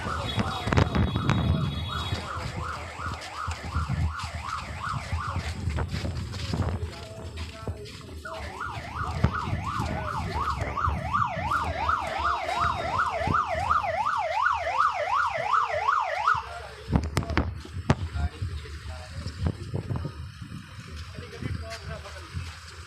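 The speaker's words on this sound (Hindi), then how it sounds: "उनको इस एम्बुलेंस में जो है वो लेकर जाया जा रहा है।" A wailing ambulance siren cycles rapidly up and down, fairly close, amid crowd noise and voices at a funeral prayer gathering, then cuts off near the end.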